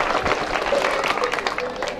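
Crowd applause after first prize is awarded at a village Ganesh festival, a busy patter of clapping from many people mixed with chatter and voices throughout.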